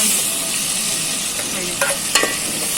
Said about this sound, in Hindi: टमाटर और प्याज जो हमने फ्राई की थी इसको हम भून लेंगे अच्छी तरह